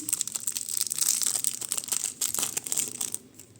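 Close, crinkly rustling of a small plastic packet of vintage jewelry being handled and opened, continuous crackles and crumples with no talking.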